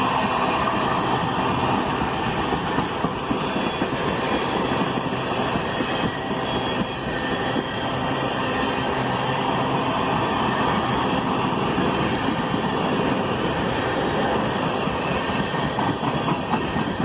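Freight train getting up to speed, a loud, close, continuous roar of rolling cars with rhythmic clickety-clack of wheels over rail joints and faint flange squeal, steady throughout with no voices.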